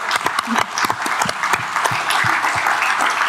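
Clapping from a small audience at a Q&A session for Adrian, the technical captain, with distinct close individual claps blending into steady applause throughout.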